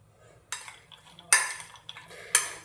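Banana stem salad is mixed in a bowl with a utensil, three distinct scraping clatters against the bowl with softer rustles between, close and alone without speech.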